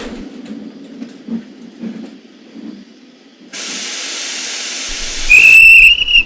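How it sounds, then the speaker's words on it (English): A sharp, high guard's whistle blows at a steam railway near the end, preceded by a loud hiss of escaping steam and low engine rumble. "That's my guard's whistle."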